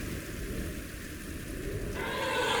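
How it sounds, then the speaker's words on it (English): Heavy rain pours down in a Rwandan rainy-season storm, a dense, continuous hiss with no voices that swells louder toward the end. "Powerful storms during the rainy season bring intense downpours"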